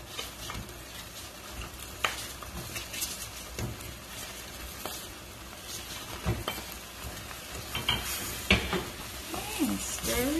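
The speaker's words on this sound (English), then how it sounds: "And give it a stir. We're going to add in the lobster." Lobster tail pieces stir-fried with ginger and scallion in a hot pan, a steady close sizzle with scraping stirs and occasional clinks of the utensil against the pan.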